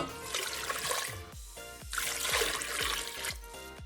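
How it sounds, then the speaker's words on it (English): Tap water pours and splashes steadily into a cooking pot for oxtail soup, a continuous close rushing trickle with small fluctuations and a short dip midway. "Fill up the water to the line labeled max for maximum."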